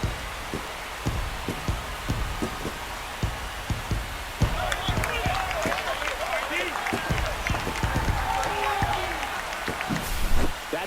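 A stadium crowd in MLB The Show 25 roars and applauds after a home run in a Washington Nationals vs Oakland Athletics game. The cheering swells into a sustained wash of noise under a broadcast commentator's voice.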